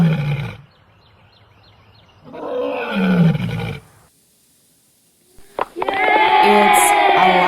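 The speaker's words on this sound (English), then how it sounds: "It's a lion." A lion gives deep, loud roars in close succession, each swelling and fading with short quiet gaps between them, and a higher, brighter animal call follows at the end.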